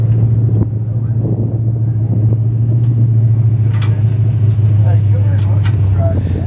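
A modified race car engine rumbles steadily on a track, loud and continuous throughout, with a voice speaking over the engine noise.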